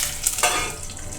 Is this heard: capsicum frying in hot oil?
yes